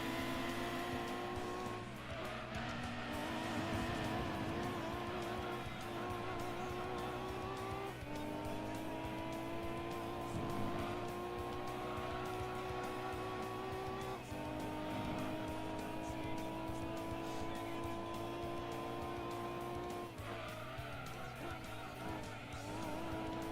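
Race cars in Gran Turismo 2 roar steadily through a four-lap race, with engine tones rising and shifting through gears and occasional tire squeal, loud and continuous throughout.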